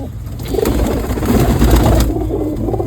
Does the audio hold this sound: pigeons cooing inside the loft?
yes